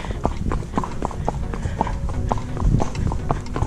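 Horse hooves clip-clop in a steady rhythm while riding through a town on the way to Puebla de Sanabria, close and clear, with faint background noise underneath.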